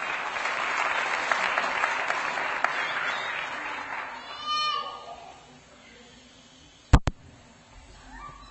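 An audience at a school board meeting applauds for several seconds, a dense wash of clapping that fades out, followed by a brief tone and a couple of sharp clicks.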